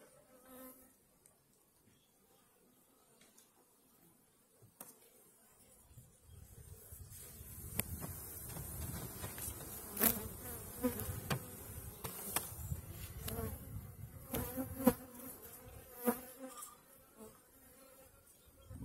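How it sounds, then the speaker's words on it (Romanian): Honey bees buzzing inside a barrel hive: faint at first, then a swelling, dense hum of many wings that grows louder and stays continuous, with occasional sharper buzzes of individual bees passing near. "Albinuțele."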